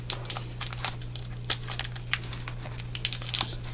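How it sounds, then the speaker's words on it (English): Plastic packaging being wrestled open to get at My Little Pony trading cards, heard as close, busy crinkling and crackling with small tearing bursts over a steady low electrical hum. "As I struggle to open these cards."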